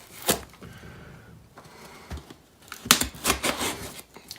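A knife slices open a System 7 LARP collectible card game box, making sharp scraping cuts and crisp cardboard clicks in uneven bursts, with a cluster of quick cuts toward the end.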